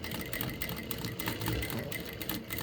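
A sewing machine stitches the front of a katori blouse, running in a continuous rapid mechanical whir with a fine rhythmic needle patter, close and steady, with no talking.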